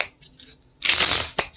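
Tarot cards are shuffled close up, a dense riffling burst followed by a sharp tap as the deck settles, after faint handling sounds.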